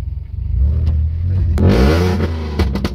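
A modified VW Polo with a Code 6 Stage 2 tune revs hard and loud up close, with a deep throaty rumble and sharp popping crackles as the throttle climbs.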